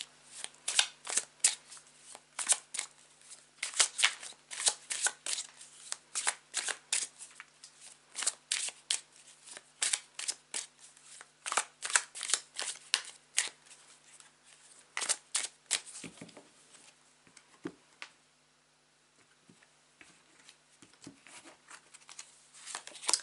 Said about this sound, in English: relax, whilst I shuffle the deck